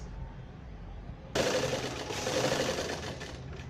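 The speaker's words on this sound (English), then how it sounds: "Using a long stitch, we'll be stitching all the pieces, leaving about 1 centimeter from the edges." A sewing machine stitches gown pieces on a long stitch setting, starting abruptly after a quiet moment and then running in a fast, steady whir close by, with no voices.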